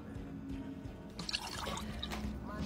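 Water spilling and splashing instead of being drunk, heard as a short burst of wet pouring and dripping over a steady background hum, with no talking.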